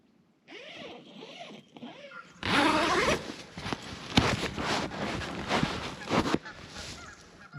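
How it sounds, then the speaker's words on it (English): Ducks calling excitedly outdoors: a few quacks first, then a louder flurry of overlapping squawks and splashy scuffling, fairly close and continuous. "Ducks are going crazy out there."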